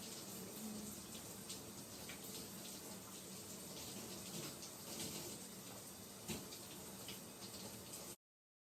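Water runs steadily from a tap while a hair mask is rinsed out of hair, a continuous close splashing rush with occasional louder spatters, ending abruptly.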